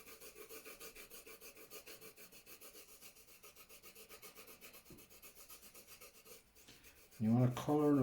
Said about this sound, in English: you just want to be trying to use the flat of the colouring pencil lead